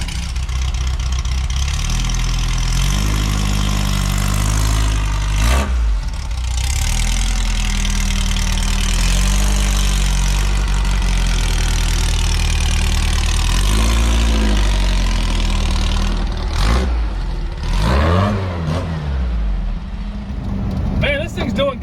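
A Volkswagen Baja's engine idles as it warms up, a loud steady low rumble with a few brief revs, filling the whole stretch up close with occasional talk over it.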